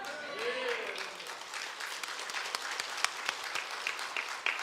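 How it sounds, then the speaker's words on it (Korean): A church congregation claps during a worship service, a steady patter of many hands. A voice speaks over the clapping. "박수는 신나게 치시되 하나님께 치시기 바랍니다"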